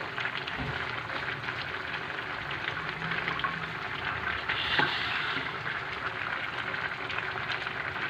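Cabbage stir-fried in a pan for chopsuey gives a steady, close sizzle that never lets up, with soft scraping and stirring noises running through it.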